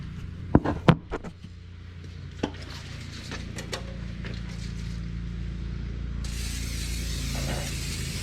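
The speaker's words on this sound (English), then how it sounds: "you can even spray it into your snowblower" Cooking spray hisses from an aerosol can onto a snow shovel outdoors in wet snow, a steady close burst near the end after a few sharp handling clicks and knocks.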